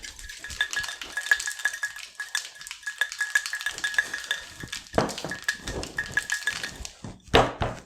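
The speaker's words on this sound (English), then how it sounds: "you're getting more of that woof, woof, woof sound and less of the ice cube shaking" Ice rattling and clinking inside a cocktail shaker holding a Ramos Gin Fizz with soda water, shaken in quick, irregular bursts at close range with a dull thumping beneath.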